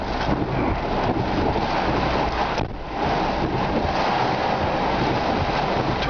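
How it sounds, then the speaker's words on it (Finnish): Strong wind roars and buffets the microphone with a steady heavy wash of rain, loud and continuous, briefly dipping midway, during a thunderstorm in Finland. "Tulee vettä ja lujaa tuulee."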